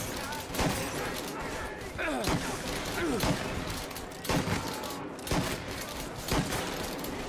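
Shotgun blasts from the game Mafia boom out in a series of heavy, evenly spaced shots, each with a sharp thump and a quick tail, while someone talks between and over them.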